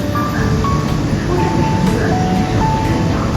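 A Shanghai Metro train runs from Songjiang toward the city centre, its loud, steady rumble and rail noise filling the carriage with a few faint tonal whines and brief clicks throughout.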